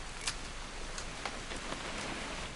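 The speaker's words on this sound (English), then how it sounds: "It's gonna rain the whole weekend," Steady rain falls in the video game What Remains of Edith Finch, a dense constant hiss with a few louder drop spatters, no talking.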